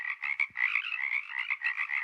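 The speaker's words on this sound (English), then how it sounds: "frog pond frogs as opposed to tree frogs" Pond frogs croak outdoors at Esalen, a dense, irregular chorus of raspy calls overlapping continuously at close range, with no voices.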